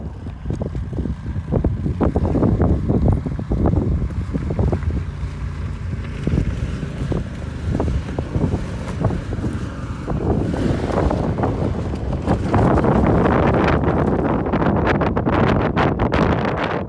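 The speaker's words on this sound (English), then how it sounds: "The brisk wind off the icy water was cold" Brisk wind gusts off icy water at a lakeside campsite, a steady loud rush with buffeting microphone wind noise and lapping waves, strongest toward the end.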